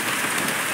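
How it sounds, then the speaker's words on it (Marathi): Loud, heavy rain roars close by in a thick, continuous wash of falling water. "हा बघा पाऊस"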